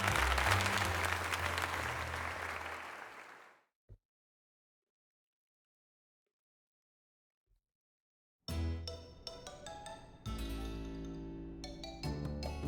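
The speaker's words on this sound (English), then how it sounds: "let us give another heartfelt round of applause to Digi" Applause in Pokemon Legends Z-A, a dense burst of clapping that fades out, then several seconds of near silence before a second burst of applause starts abruptly and carries on loudly to the end.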